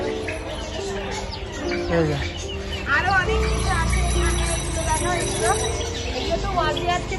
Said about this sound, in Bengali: ওই দেখো পাখিগুলো দেখাও একটু